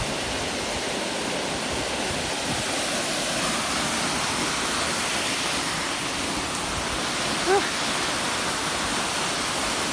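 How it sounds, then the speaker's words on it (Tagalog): Sorsogon Falls in Kidapawan roaring steadily, a loud unbroken broadband rush of falling water heard close up for the whole stretch, with a brief faint chirp near the end. "Hanapin nyo lang ito, Sorsogon Falls."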